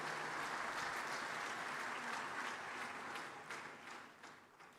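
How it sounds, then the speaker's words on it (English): Applause from a conference audience at an Afreximbank business meeting in Ghana, dense and sustained, then thinning slightly toward the end. "That's your first round of applause for the day."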